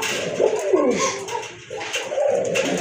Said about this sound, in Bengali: মাশাআল্লাহ আরেক জোড়া শর্ট ফেস কবুতর